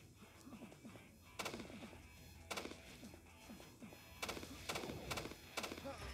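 Gunfire from the mobile game Metal Soldiers 2: loud bursts of shots stand out at intervals over constant game noise and a low rumble, the clusters coming in the later half.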